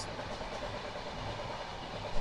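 Inside a coach of the Ruposhi Bangla Express on the Dhaka to Benapole line, the running train gives a steady, broadband rumble and rattle without pause.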